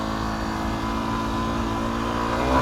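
A 2008 Yamaha WR250R dual-sport motorcycle engine revs hard at high RPM, a steady loud buzzing drone that climbs in pitch toward the end, heard up close with no talking.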